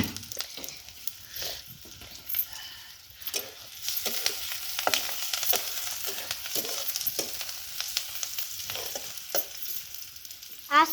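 Vegetables fry in oil in a pan, a soft steady sizzle broken by scraping stirs, fairly faint and close with no talk.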